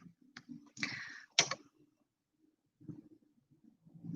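Reading cards are shuffled by hand in short bursts of riffling and soft slapping, close and quiet, separated by pauses and light handling noises.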